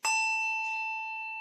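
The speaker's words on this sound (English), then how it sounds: "Ring bell number 3." A single handbell is struck once and rings out clear and bright, its tone ringing on and slowly fading.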